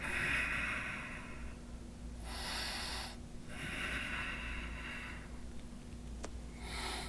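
Long breaths during a yoga side plank, three or four audible exhalations close to the mic, each lasting about a second, separated by quiet pauses.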